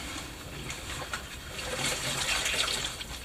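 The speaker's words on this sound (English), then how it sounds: "We're gonna apply some water to it, and I'm gonna show you how it wets out." Water runs and splashes onto a Nikwax-treated jacket, a continuous close gushing trickle that swells slightly louder toward the end, with no talking.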